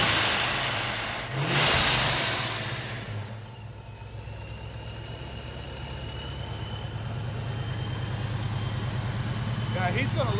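A car engine surges loudly on a dyno while strapped down, then drops to a rough, steady drone that slowly builds again, close and continuous.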